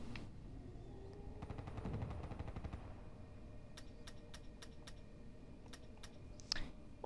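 Gunfire in the video game Black Ops 3 Zombies: a quiet, rapid burst of automatic shots, then several sharp single cracks spaced apart, faint and distant-sounding against a low background hum.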